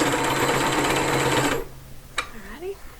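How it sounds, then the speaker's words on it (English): Sewing machine stitches a lotus petal in a fast, steady whirring run for about a second and a half, then stops, followed by faint handling clicks and a brief voice. "I'll sew up to my stitching"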